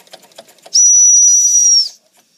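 A small toy steam engine driving a little turbine gives a loud, steady high whistle with hiss for about a second after faint ticking, then cuts off to silence as the steam runs out.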